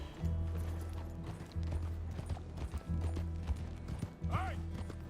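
Horse hooves clip-clop at a quick, steady pace in the Red Dead Redemption 2 video game, with a brief whinny near the end and scattered speech and game sounds around them.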